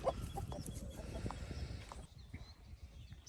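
Chickens inside a static chicken coop with roosting bars cluck softly, several birds murmuring at a low level for a few seconds before things grow quieter.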